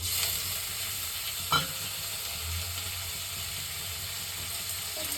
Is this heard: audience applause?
no